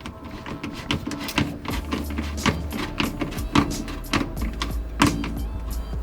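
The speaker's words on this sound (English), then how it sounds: "I'm just gonna tighten down this clamp" Hose clamp being tightened on a Samsung dishwasher drain hose, a close run of quick ratcheting clicks and scrapes over a low motor-like hum.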